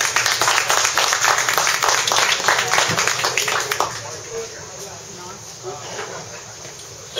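An audience claps and applauds loudly and steadily for Ed Gillman, a WWII veteran, then the applause fades into a quieter room murmur.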